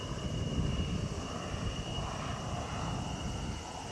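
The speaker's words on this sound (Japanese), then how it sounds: "エンジン音はするんだが、" An aircraft engine runs at JASDF Gifu Air Base in Japan in 1992, a steady droning roar with a sustained high whine, moderately loud and unbroken at some distance.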